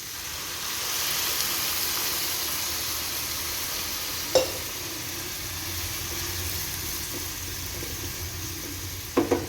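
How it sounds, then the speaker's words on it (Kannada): Beetroot pallya sizzling in a pan after water is added, a steady hissing fry with a brief louder splash and a couple of clinks of a utensil near the end, close and without talk. "ಈಗ ಇದಕ್ಕೆ ನೀರನ್ನು ಹಾಕ್ತೀನಿ."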